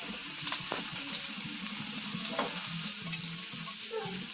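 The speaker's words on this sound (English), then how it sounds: "add them to the pan with the mushrooms, give it a slight toss" Steaks sizzle and crackle steadily in a frying pan with mushrooms, a continuous close frying hiss with small pops and occasional stirring scrapes.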